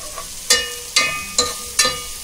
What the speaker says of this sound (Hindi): नमक डालने से प्याज जल्दी लाल होता है।